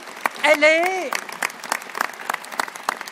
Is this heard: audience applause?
yes